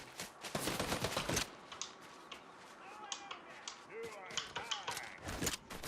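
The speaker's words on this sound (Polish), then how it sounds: "Nie no, strzelają do ciebie cały czas." Fortnite gunfire crackles in quick bursts, a dense volley early on and scattered shots later, quiet overall, with faint voice-like sounds between the shots.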